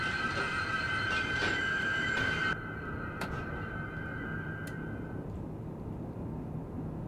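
A train pulls out in Train Simulator 2016 on a regional express run between Uelzen and Bielefeld, giving a steady loud rumble with a high squealing tone that drops away partway through, then a quieter continuous rolling hum.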